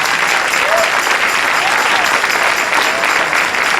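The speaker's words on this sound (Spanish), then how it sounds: "Dele un aplauso al Rey bendito," A church congregation claps loudly and steadily, a dense wash of many hands filling the room without letup, with faint crowd murmur mixed into the clapping.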